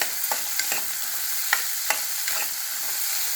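Turkey berries sauté in oil under a soft, steady sizzle, while a spoon stirring them scrapes the pan in a handful of distinct, irregular knocks, close and clear with no talking.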